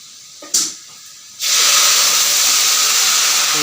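Lentil dal poured into hot tempering in a pan, a brief splash followed by a loud, steady, close sizzle and hiss that continues without pause.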